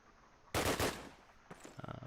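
Gunfire in a Call of Duty match on the Dawnville map: a loud burst of rapid shots, then a pause and a second, quicker rattling volley, near and alone.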